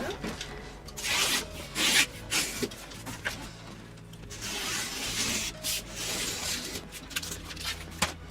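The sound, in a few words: cutting a cardboard panel square for furniture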